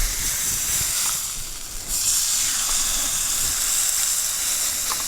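Pecan-crusted catfish sizzles in a hot pan after being flipped, a steady bright hiss that dips briefly and then returns just as strong, with no voices over it.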